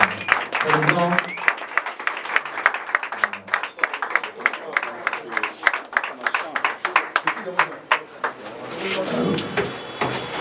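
Scattered applause at a political investiture ceremony welcoming the national president, sharp separate claps in an uneven rhythm rather than a dense roar, with voices talking over and between them and a fuller burst near the end.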